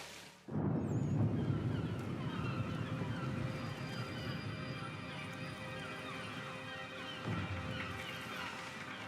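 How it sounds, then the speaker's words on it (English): A loud, sustained thunder rumble rolls in after lightning strikes a sailing ship at sea in Assassin's Creed III. It starts abruptly, holds steady for several seconds, then swells again near the end. "They've just been hit by lightning as well."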